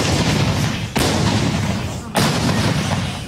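Ukrainian artillery fires near Chasiv Yar in the Bakhmut area, two sharp booming blasts about a second apart over a loud, rumbling wartime din.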